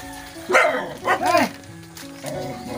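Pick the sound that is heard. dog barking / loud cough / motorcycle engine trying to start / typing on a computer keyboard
dog barking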